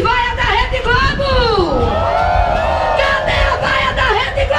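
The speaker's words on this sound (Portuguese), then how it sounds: "Cadê a grande vaia da Rede Globo?" Large crowd at a protest march toward the Esplanade in Brasília, a loud sustained roar of many voices with shouts and jeering, continuous and dense throughout.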